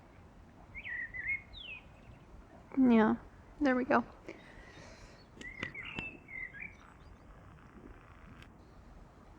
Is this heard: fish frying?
no